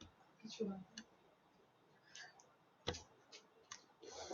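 Faint, sharp clicks of a computer mouse sound a handful of times at uneven intervals, close by against quiet room tone.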